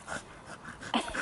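A dog in a quiet Mexican neighborhood gives a few soft, close whimpers and breathy whines in short bursts, with a brief louder whine near the end.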